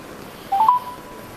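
Short electronic telephone dialing tones play as a call to a contact begins, a quick faint run of beeps over quiet background hiss.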